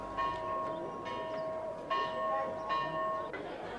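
Faint metallic bells ring out at the Badrinath temple as pilgrims strike them while circling the sanctum, several sustained tones overlapping and renewed every second or so amid a quiet crowd murmur.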